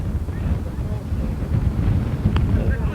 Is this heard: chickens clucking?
no